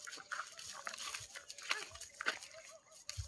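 A dog makes faint, scattered whimpers and yips at low volume while a person talks and calls nearby.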